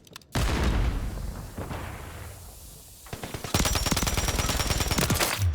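Light machine gun fire in Modern Warfare 3: a loud opening burst, a brief lull of quieter battle noise, then a long, fast, sustained stream of close automatic shots.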